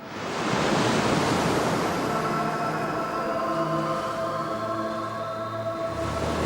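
Sea waves wash in with a continuous broadband roar after a quick swell at the start, holding loud and steady, with faint tonal hums running underneath.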